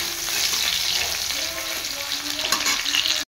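Onion sizzling and frying in a hot pan for an Assamese meat dish, with ginger-garlic paste and chili powder added, a steady dense crackle running throughout with occasional stirring.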